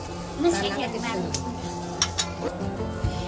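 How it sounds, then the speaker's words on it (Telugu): Ragi roti roasts with oil on a hot pan, giving a soft, steady sizzle with occasional light clinks of a utensil. A voice talks over it. "కొద్దిగా అయితే పైన నూనె వేసుకున్నాము. మంచిగా అయితే కాలిద్దాము."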